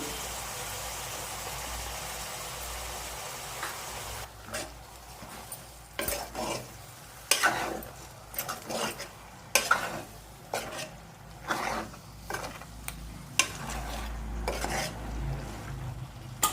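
Boti curry with chili powder is stirred in a frying pan, a soft sizzle running beneath a series of irregular scraping and clinking strokes of a spoon against the pan, close and fairly quiet.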